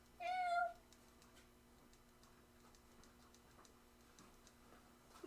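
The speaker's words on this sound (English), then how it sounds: "There's a kitty." A single clear cat meow rings out near the start, close and bright, then gives way to a quiet room with faint light ticking and tapping sounds.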